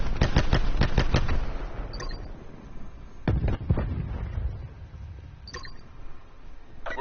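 Gunfire in Call of Duty Black Ops 4 multiplayer: a rapid burst of loud, close shots opens the clip, followed by scattered single shots and short bursts over a rumbling battlefield background.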